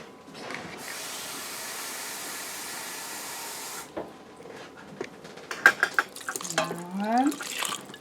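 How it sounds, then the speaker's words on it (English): A steady hiss of two cups of water pouring into a pressure cooker pot with artichokes for a few seconds, then clinks and scraping of the pot, ending with a rising bubbling gurgle. "And then I'm going to add 2 cups of water."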